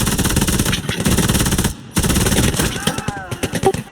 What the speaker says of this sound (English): MG fire right